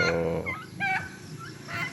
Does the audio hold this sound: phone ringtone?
no